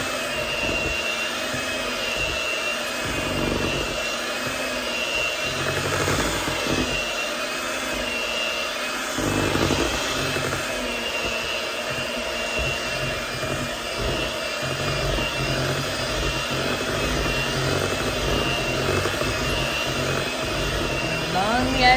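Sweet potato cake batter with rum, made from scratch, being mixed: a loud, steady, motor-like whir runs continuously at close range with slight surges, and a voice talks intermittently.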